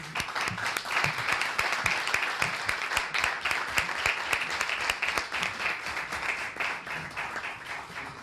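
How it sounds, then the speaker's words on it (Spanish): Applause breaks out for a newly sworn-in councillor at an extraordinary municipal council session in Miguelturra, a steady patter of many hands clapping at close range that holds evenly for several seconds. "Bueno, un aplauso."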